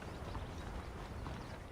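Horse hooves clip-clop at a walk in the Red Dead Redemption video game, a dense, muffled, steady patter under a noisy background.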